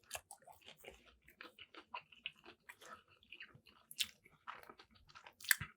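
Close, wet chewing and crunching of spicy fries, an irregular run of soft bites and mouth sounds with no talk.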